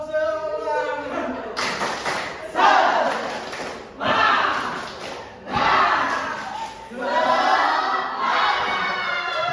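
A class of third-grade children doing a rhythmic clapping chant in a classroom, with loud shouted group voices and bursts of clapping in repeated phrases, led by an adult voice at the start.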